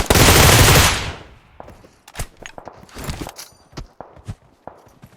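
Loud burst of automatic gunfire in PUBG Mobile, likely from a Groza rifle, dense and sustained for about a second, then trailing into scattered shots and footstep-like clicks.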